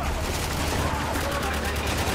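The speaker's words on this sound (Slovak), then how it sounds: "Použijeme AKčko." AK rifle gunfire in the shooter game Spec Ops The Line, a dense continuous rattle of shots at steady loudness filling the whole clip.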